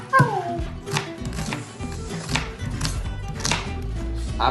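Onions are cut with a knife in a home kitchen, a handful of sharp, separate chops landing under a voice that talks nearby.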